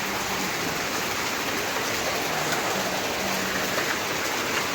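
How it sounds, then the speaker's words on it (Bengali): Heavy rain pouring steadily outdoors during a storm at a home in Bengal, a dense, even roar of drops on surfaces close by, unbroken for the whole stretch with no voices. "বৃষ্টি পড়ছে দেখুন।"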